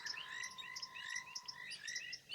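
A thick-knee bird calling at dusk on an African safari, its call mixed into a dense, steady chorus of high frog chirps and trills, fairly faint with no voices.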